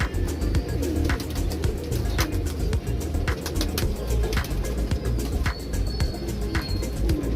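Neel Dumba Teddy cross pigeons coo steadily in a loft, their low throaty calls overlapping continuously with faint chirps and light background noise, no voices present.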